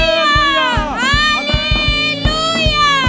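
A church congregation at a Palm Sunday testimony meeting shouts loud, sustained hallelujahs with rising and falling pitch, over a steady beat of low thumps, with children's voices in the mix.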